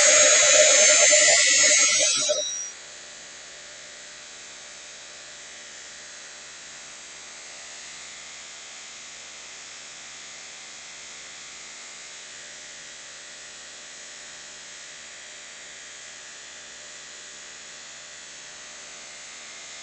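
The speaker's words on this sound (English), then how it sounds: "I'm being very careful as I dry it, because I'm drying it with the heat gun" A heat gun drying a plastic light bulb craft blows with a loud whirring hiss for a few seconds, then cuts off, leaving a long, faint, steady hum.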